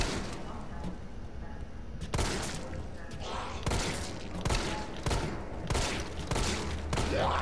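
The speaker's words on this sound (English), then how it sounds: "Keep missing these damn shots!" Rapid gunfire from the video game Resident Evil 3 fires in loud repeated bursts, some shots spaced a second apart, over a steady game background rumble.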